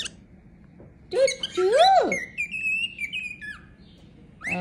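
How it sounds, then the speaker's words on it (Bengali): A small bird sings close by: a rising and falling whistled note, then a run of high chirps and squeaky tweets, ending with a brief call. "আমার পাখিটি যেমন গান গায় বা শিখতে পারে"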